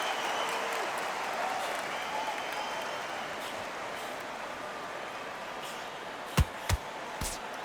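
Arena crowd in a boxing video game, a continuous broad wash of applause and murmur at steady level, with a few sharp thumps near the end.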